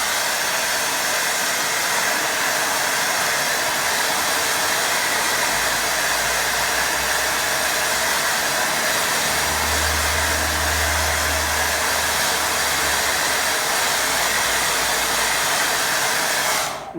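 A hair dryer blows steadily and loudly throughout, drying freshly applied watercolour paint on paper, with its drone staying constant and a low rumble shifting slightly as the dryer is moved.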